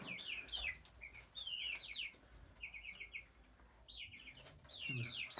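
Chickens clucking inside a chicken coop, with repeated short, bright calls in quick bursts, some soft wing flapping, and a low rustle of hens moving around nearby.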